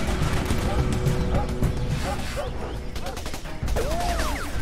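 Sustained gunfire in the squad shooter Raven Squad crackles as a dense, loud fusillade of overlapping shots, with shouted voices and swooping effects mixed in.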